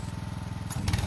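A homemade snow blower with a custom polypropylene-sheet jet shooter chugs with a fast, even engine pulse nearby, then surges louder and rougher near the end as it bites into packed snow.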